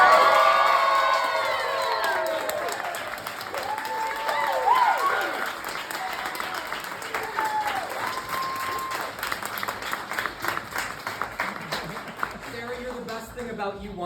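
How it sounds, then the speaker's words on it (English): A crowd at a wine bar anniversary party breaks into sustained applause with cheering and whoops, steady and loud throughout, with excited shouts rising over the clapping. "the most incredible, thunderous round of applause possible"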